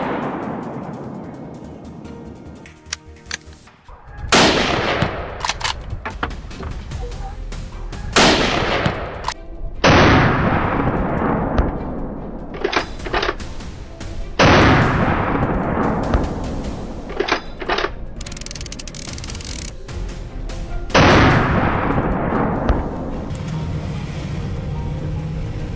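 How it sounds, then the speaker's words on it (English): Pistol shots fired at a wild boar during a hunt ring out as a series of loud, sharp reports spread irregularly across the scene, some in quick succession, with outdoor rustling between them. "The pistol was fired decisively."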